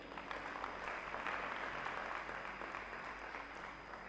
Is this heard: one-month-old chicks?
no